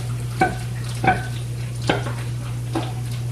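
Eggs fry in a hot pan for a bacon bagel sandwich, a low steady sizzle under a constant hum, broken by four short scraping stirs of a utensil against the pan.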